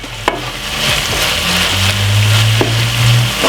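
Saltfish and okra fry in a pan in a Jamaican home kitchen, a steady close sizzle with a few sharp clicks and stirring scrapes, no voices.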